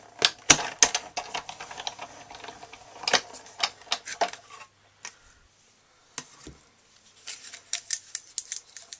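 A Stampin' Up Big Shot die-cutting machine cranking Thinlits dies and an acrylic cutting pad through, giving irregular sharp clicks and ratcheting snaps with brief quiet gaps, close and fairly quiet.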